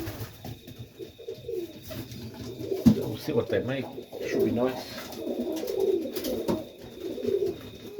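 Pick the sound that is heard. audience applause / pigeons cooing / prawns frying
pigeons cooing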